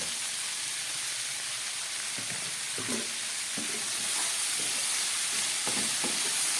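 Turmeric goes into a sizzling pan of vegetarian khichuri, a steady crackling fry with soft stirring scrapes and clinks of a spoon against the pan, close and continuous, no talking.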